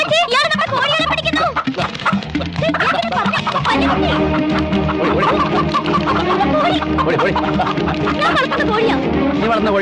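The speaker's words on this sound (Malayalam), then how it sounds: "എന്റെ ഈശോയെ എന്നാ വലിപ്പമായി കോഴിക്കൊക്കെ" Large farmyard chickens cluck and squawk close by amid a busy, layered mix of voices and other noise, with someone talking over the birds throughout.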